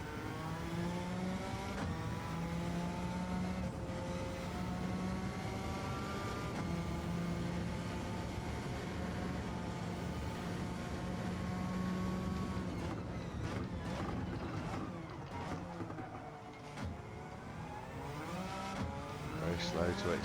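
A Suzuki Escudo Pikes Peak in GT7 on Sardegna Road A, its engine droning steadily and climbing through gears under acceleration, with tire noise now and then and someone talking over it.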